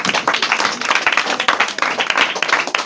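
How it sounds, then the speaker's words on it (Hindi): Classroom children clap together for a girl student, a dense, steady patter of many hands sustained close by for the whole stretch, with no talking over it. "ताली बजाइए इस बिटिया के लिए भी।"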